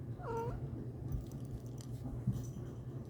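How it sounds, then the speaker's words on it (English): A pet cat gives a short, rising meow near the start, close by and fairly faint over a low steady room hum, followed by quiet shuffling. "he just, like, meowed like he was intrigued by something"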